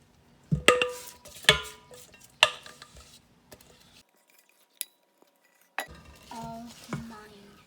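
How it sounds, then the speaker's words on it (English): A spatula folds a chocolate mixture into whipped egg whites in a bowl for a flourless chocolate soufflé, giving soft scraping and occasional sharp clinks against the bowl, close and intermittent, with a quiet pause midway. "we're going to now take the chocolate mixture and fold that"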